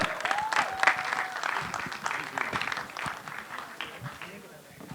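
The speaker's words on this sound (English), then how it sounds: "A huge round of applause for the extremely dapper-looking Hrithik Roshan." A stage audience claps loudly for an actor at a live event, dense sustained applause with cheers and whistles that slowly eases over several seconds.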